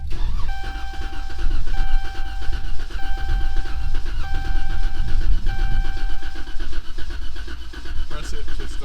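A decommissioned police car cranks and its engine catches, then settles into a loud, close idle with a steady whine and a chiming warning tone repeating over it; a voice murmurs near the end.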